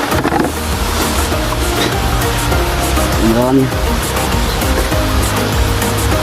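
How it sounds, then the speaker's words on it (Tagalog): Heavy rain pours down outdoors in the countryside during a fishing trip, a dense, loud, steady roar that fills the whole clip while people talk over it. "Ulan naman, no?"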